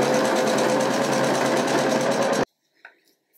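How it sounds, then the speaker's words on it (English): A sewing machine backstitching a trouser waist seam runs in a fast, steady, loud mechanical whir close by and stops abruptly, followed by a few faint handling clicks. "I just go straight to the sewing machine and I will secure it over here"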